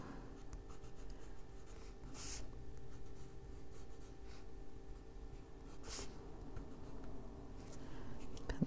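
A pencil colors on paper in a steady, continuous scratchy rubbing across the whole stretch, close and moderately loud, with a couple of brief sharper scrapes.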